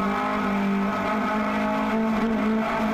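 A lightweight Datsun roadster race car engine at a 2012 HSR West track event drones at steady high revs with a wavering, uneven tone from fuel starvation, loud and close from onboard.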